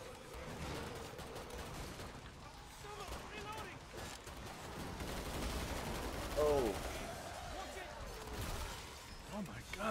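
Rapid bursts of gunfire crackle through a Killing Floor 2 co-op match on PS4 from a 20-round weapon, shots clustering in quick volleys amid game chaos while players talk over the shooting.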